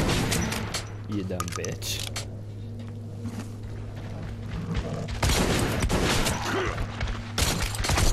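Bursts of gunfire from Metro: Last Light erupt in rapid clusters, loud and close, over a low steady mechanical hum, with a voice speaking briefly among the shots.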